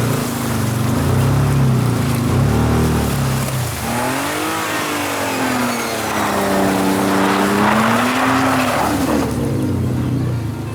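Race car engine in a video game, a tank-and-race carnage match: a steady loud motor drone with rising and falling pitch sweeps as it revs and shifts, running continuously.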